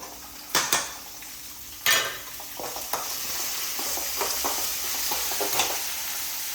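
Green chilies dropped into hot oil in a pan while making dosa and paddu batter, with a couple of sharp metal clinks and then a steady, close sizzle that builds and holds.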